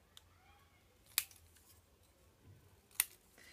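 Scissors snip paper to trim a tab on a Harry Potter Hogwarts advent calendar, two sharp isolated cuts close to the microphone over a quiet room.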